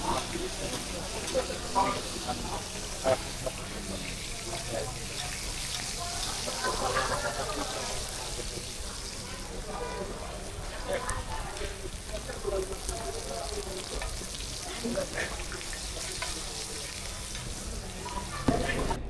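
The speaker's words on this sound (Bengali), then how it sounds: "মাছ ভাজা চলতেছে মাছ ভাজার কাজ চলতেছে" Hilsa fish fry in a pan at a riverside ghat eatery, a steady moderate sizzle running under continuous nearby chatter and background crowd noise.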